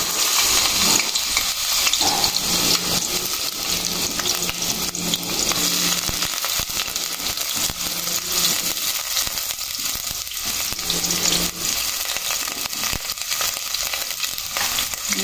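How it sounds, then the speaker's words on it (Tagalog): Onion and grated ginger frying in hot cooking oil, a loud continuous hiss and sizzle close up, with occasional stirring scrapes and crackles throughout. "naginit na ako ng mantika. Lagay na tayo ng onion."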